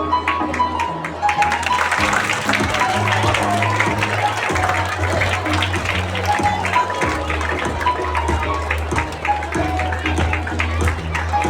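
Audience applause at a Teachers Day celebration at St. Michael's Sr. Sec. School on Pusa Road, New Delhi, honouring teachers for 25 years of service: steady, dense clapping lasting throughout, with a low background hum and some voices mixed in.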